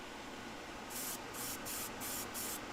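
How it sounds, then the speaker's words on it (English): An airbrush sprays red Vallejo paint in five short, even hissing bursts close to the listener, separated by brief pauses and with no talking. "Might as well just give them a little spray while I'm here"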